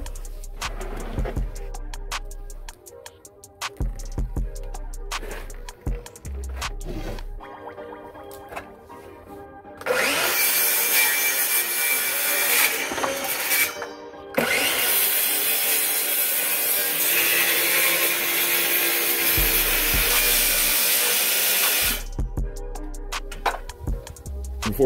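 Wood is trimmed for an engine-part shipping crate: scattered knocks and handling noises give way to a loud, continuous power-saw cut lasting about twelve seconds, then quieter handling sounds.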